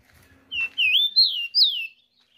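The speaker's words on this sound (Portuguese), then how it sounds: "E o passarinho cantando igual na mão." A tico-tico songbird perched on a hand sings a short phrase of four or five clear, rising and falling whistled notes, close and bright, ending in silence.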